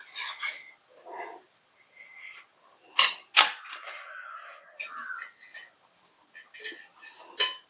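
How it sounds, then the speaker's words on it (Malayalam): A spoon stirs an anchovy and banana stem curry in a pot, giving scattered soft scrapes and a couple of sharp metallic clinks with quiet gaps between them, close and fairly faint. "ഇളക്കി യോജിപ്പിക്കാം"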